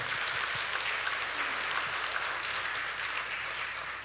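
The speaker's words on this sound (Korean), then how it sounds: "다시 한번 하나님께 영광의 박수 드립니다" A church congregation at Seocho Church claps together in sustained, dense applause, a steady wash of many hands filling the room with no break and no talk over it.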